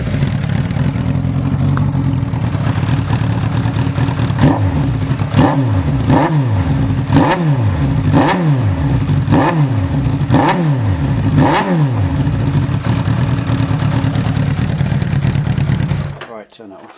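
A Suzuki Bandit 1200 motorcycle with no exhaust can idles loudly and hollowly, then revs repeatedly in a series of sharp rises and falls before being shut off, close and harsh throughout.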